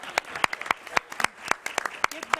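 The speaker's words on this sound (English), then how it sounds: "we'll give him a round of applause" Scattered applause at a college board of trustees meeting, a small group clapping in sharp, separate, uneven claps rather than a dense roar, fairly close and brief.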